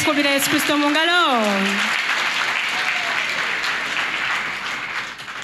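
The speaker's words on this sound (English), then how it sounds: "Clap your hands for Jesus Christ." Congregation clapping at a church healing service, a steady dense wash of applause filling the room, loud and sustained, with a voice singing or calling over the start before the clapping carries on alone and eases slightly.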